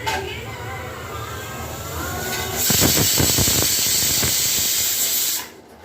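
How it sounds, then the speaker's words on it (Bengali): A pressure cooker whistle blows while basanti pulao cooks, a loud sustained steamy hiss that surges midway and stays strong for a few seconds before cutting off abruptly, with a faint voice beneath. "ঠিক আছে দুটো সিটি পড়লো আর একটা পড়বে এবার থার্ড সিটিটা পড়তে যায়"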